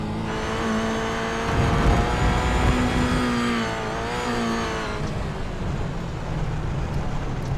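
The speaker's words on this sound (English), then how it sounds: "let's jump on board and have a bit of a listen at this car as it gets around the back end of this circuit" Heard from on board, a race car lapping the Road America circuit roars loud and steady, its engine note rising and falling through gear changes with no talk over it.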